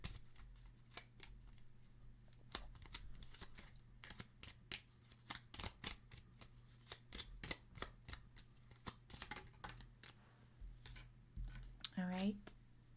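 Tarot cards being shuffled by hand during a card reading, a long run of quick papery riffles and flicks, close and fairly soft, continuing steadily with a brief, faint voice-like sound near the end.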